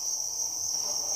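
Crickets raised on a cricket farm chirp in a dense, continuous high trill, loud and steady throughout with no voices.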